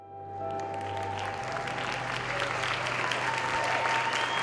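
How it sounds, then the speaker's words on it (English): Steady crowd applause fills the scene in the video game The Lion's Song, a dense continuous clapping that starts quickly and holds at an even level over a faint tonal hum. "Yeah, I'd be clapping too."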